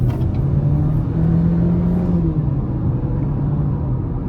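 A 2023 GMC Terrain SUV with a 1.5-litre turbo engine accelerates, a loud, steady low rumble from the cabin with a rising engine tone that eases after a couple of seconds.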